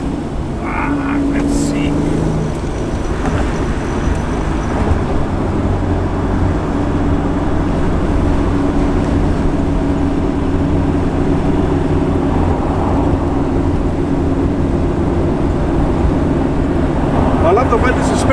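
A 1969 Chevrolet Camaro Z28 with a manual Muncie four-speed, heard from inside while driving: a steady low engine drone with rising and falling revs, and someone talking briefly over it.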